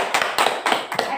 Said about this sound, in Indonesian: Tepuk tangan untuk Gratio.